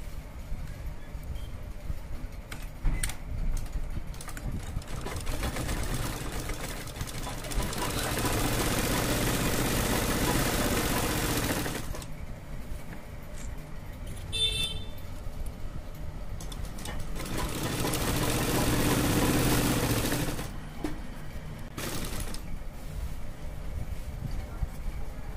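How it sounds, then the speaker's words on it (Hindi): An electric sewing machine stitches the side seam of loose palazzo trousers in two long steady runs of rapid whirring and knocking, close and loud, separated by quieter pauses with light handling noise. "अब हम इसको सिलाई लगाएंगे"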